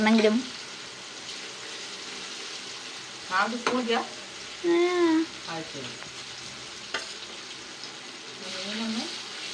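Sardines fry in a pan with a steady close sizzle running throughout, while someone talks over it in short bursts.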